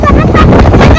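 Strong wind buffets the microphone at Valinokam beach, a loud, steady roar of gusts with a faint voice underneath.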